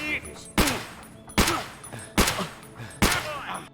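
Four loud, evenly spaced gunshots from .366 rounds fired at body armor in the video game Escape From Tarkov, each sharp crack followed by a brief metallic ring.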